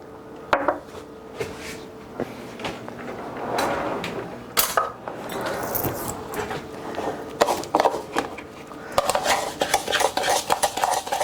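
Parmesan crust ingredients being stirred in a bowl with a utensil, giving irregular scraping and clinking of metal against the dish over a steady kitchen background, with a few sharper knocks throughout.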